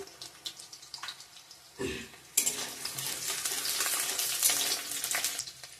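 Whole cardamom and panch phoron spices hit hot oil in a pan, starting with a few quiet clinks and stirs before a sudden loud, steady sizzle that continues close and bright alongside scraping utensil sounds.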